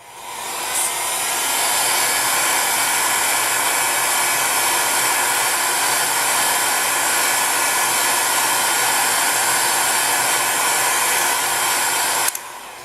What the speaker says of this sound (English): the advantage of a heat gun is that it's only baking the top of your clay